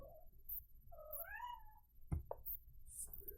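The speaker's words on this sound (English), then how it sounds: "They may be a little bit noisy, if you can hear the kitty cat here." A household cat meows a few times, its drawn-out, rising and falling calls fairly clear against a quiet room, with a brief bump or knock partway through and no talking.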